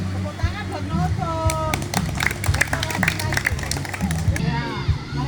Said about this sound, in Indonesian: Tepuk tangan buat Noto.